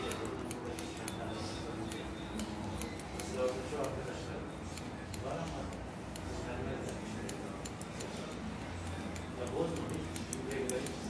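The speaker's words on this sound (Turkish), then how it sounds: "çıkış yönünün tersine doğru makas darbelerini vurmaya devam ediyoruz" Scissors point-cutting hair with repeated quick snips, delivering small crisp clicks scattered through the clip beneath a person talking steadily.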